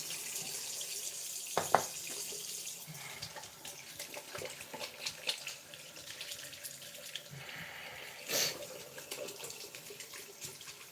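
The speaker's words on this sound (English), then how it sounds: "Let me wash this shit off my hands and wash my glasses." Tap water runs steadily into a sink while hands and a pair of eyeglasses are washed, with occasional clinks and splashes over the continuous flow, no talking.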